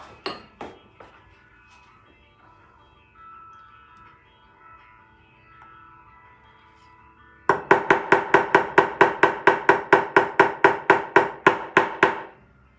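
A hammer taps a sterling silver wedding band in rapid metallic taps, a steady run of about fifteen bright, clinking strikes after a quiet stretch with a few scattered earlier knocks.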